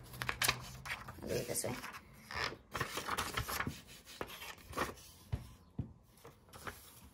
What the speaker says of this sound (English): Let's cut it out with our trusty scissors.